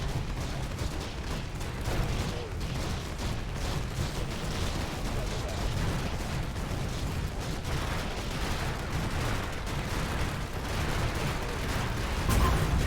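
A turret firing in the top-down sci-fi shooter Infested Planet: a dense, unbroken barrage of rapid gunfire and booming impacts blending into a loud, continuous roar throughout.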